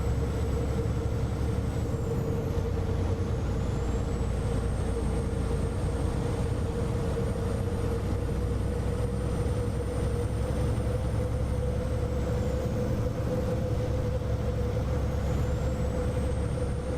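A modded Cummins X15 engine on a truck in American Truck Simulator drones steadily with a constant low rumble and tonal hum, loud and unbroken; no distinct air-brake hiss stands out.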